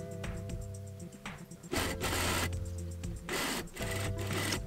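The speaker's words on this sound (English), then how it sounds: "place it right sides together, and we're gonna sew this up at a half inch" A sewing machine stitches a pocket seam on wide-leg pleated pants, running in several close, loud bursts of rapid whirring separated by short pauses, with a steady mechanical hum underneath.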